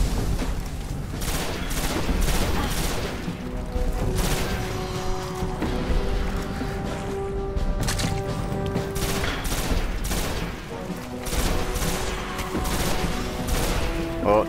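Grenade blasts and gunfire from the sci-fi shooter Destiny, with dense, continuous bursts of shots and booms layered over game music, loud throughout and no voices.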